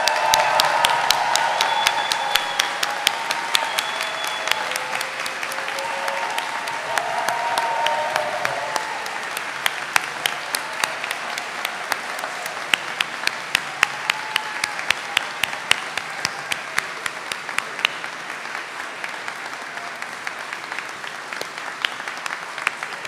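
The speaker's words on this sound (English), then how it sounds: "I would love the class of 2027 to rise so we can give you a rousing applause." A large audience at a medical school white coat ceremony applauds at length, dense steady clapping with individual sharp claps standing out, filling the hall for over twenty seconds.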